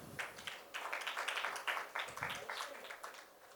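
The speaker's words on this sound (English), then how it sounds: "Warm round of applause for him" An audience at a memorial symposium on dance and Indian paintings gives the chief guest a round of applause, steady moderate clapping from a seated crowd lasting several seconds at a fairly quiet level.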